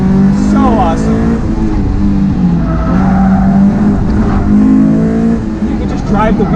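A modified Honda S2000 with engine upgrades and coilovers, driven hard around a race track: a loud, close engine roar that climbs and drops through gear changes, with a voice talking over it the whole way.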